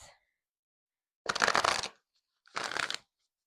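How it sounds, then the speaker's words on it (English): Two quick bursts of oracle cards being shuffled, each a crisp riffling flutter lasting under a second, close and clear against silence. "I'm going to pull some oracle cards here"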